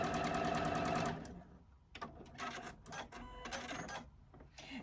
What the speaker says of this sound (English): Now, I'm going to sew the other side of my border.